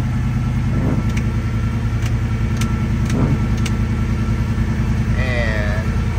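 A 1939 Ford Coupe engine idles steadily nearby after a cold start, a continuous low, rumbling hum with a few faint higher noises over it.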